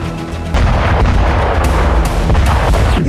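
Ukrainian forces bomb positions in Tonenke, Donetsk, with French Hammer bombs, heard as a loud, sustained roar of blast and rumble with sharp booming impacts throughout.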